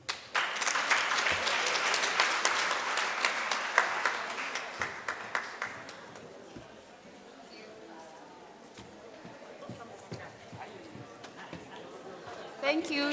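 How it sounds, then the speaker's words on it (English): Audience applause at a midwifery and obstetrics conference, a burst of clapping that fades after several seconds, with scattered claps and a voice speaking near the end. "Let's clap hands for him again."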